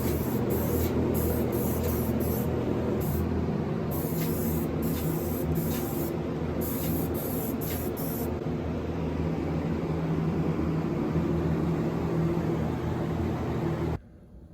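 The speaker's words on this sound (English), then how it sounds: "we're gonna do one more final coat of lacquer" Spray gun applying a final coat of lacquer to a handmade ukulele, a continuous close hiss lasting about fourteen seconds with brief pulses near the start, then stopping abruptly.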